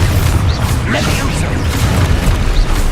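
A Expulso explosion spell from Hogwarts Legacy booms out as a loud, dense blast with heavy low rumble that rolls on steadily for the whole stretch, with small pops and bursts crackling through it.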